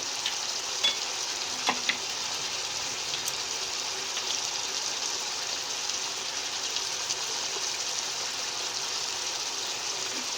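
Bata fish curry sizzling in a pan as it is stirred, a continuous soft bubbling hiss with occasional light clicks and scrapes throughout.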